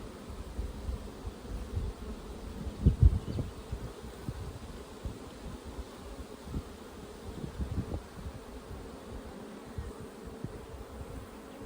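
A small honeybee colony hums in an outdoor bee yard, a steady close buzz with occasional louder passes of single bees near the hive and light rustling.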